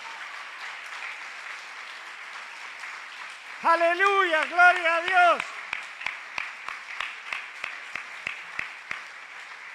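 A church congregation applauds loudly while a voice calls out praise over it, and the clapping then falls into a steady rhythmic beat that continues to the end.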